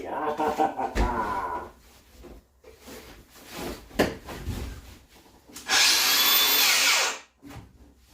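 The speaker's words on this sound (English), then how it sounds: "Grinder. Grindy, grindy, grindy." A power grinder bites into a wooden board in one loud, harsh burst lasting about a second and a half, after scraping and knocking handling noises, with a person talking in between.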